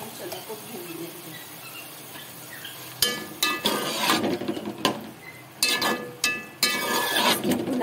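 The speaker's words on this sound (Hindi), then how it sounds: "अब इसको अच्छे से हम चने को भून लेंगे।" Chickpeas with half a cup of yogurt roasting and being stirred in a pan, giving repeated bursts of scraping and clinking from a spoon against metal over a low background hiss, with pauses between strokes.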